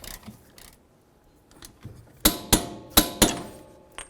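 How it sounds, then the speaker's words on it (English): A half-inch torque wrench with a 32 mm socket tightens a rear wheel hub bolt on a 2007-2014 Ford Edge, giving a series of sharp metallic ratchet clicks and clacks, four loud close strikes following quieter taps. "We're going to grab our 32 millimeter socket, our 1/2 inch torque wrench, and we're going to torque this down to 258 foot-pounds."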